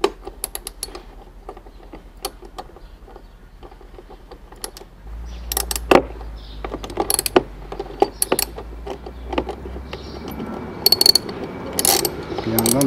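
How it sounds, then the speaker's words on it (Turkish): A ratchet wrench loosening bolts on a Beagle engine, giving sparse clicks at first and then denser bursts of close, sharp ratcheting over a low hum. "4 cıvatayı açmamız gerekiyor"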